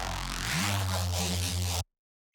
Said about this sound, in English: this crazy refill between the first and second part of the drop